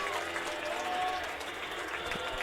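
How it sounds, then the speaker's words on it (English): A packed high school football stadium crowd at a Tigers versus Rams game cheers and applauds in a steady, dense roar of clapping and voices that fills the whole stretch without a break. "Fans on their feet making some noise."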